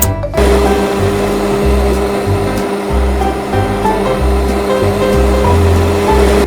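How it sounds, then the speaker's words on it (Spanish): A kitchen blender runs continuously on chopped mixed fruit, a loud, steady motor whine with grinding churn and low rhythmic thumps underneath throughout. "Cortó con cuidado cada tipo y lo metió todo en una licuadora."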